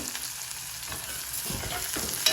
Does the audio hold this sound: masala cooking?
yes